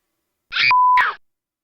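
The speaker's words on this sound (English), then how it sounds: "that's how you add a bleep" A short, steady electronic beep bleeps out a clipped snippet, with brief noisy bursts just before and after it.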